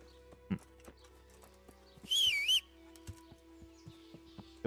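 Scattered horse hoof clops at irregular intervals in the video game Kingdom Come: Deliverance, with a brief high whinny midway and faint chirps in the background.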